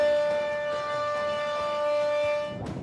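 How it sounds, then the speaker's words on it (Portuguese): A steady, wailing civil defense siren in Japan drones on at an even pitch, loud and sustained, marking a tsunami memorial moment, with a brief burst of other noise at the very end. "As sirenes marcaram o momento exato em que as ondas gigantes surgiram"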